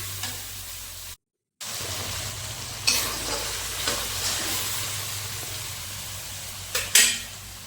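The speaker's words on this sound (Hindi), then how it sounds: "सारिबा परे ताको लो फ्लेम रे कसिबा" Paneer curry masala sautéing on a low flame, a steady soft sizzle with spoon stirring scrapes and a few clinks against the pan, briefly cut by a short gap of silence.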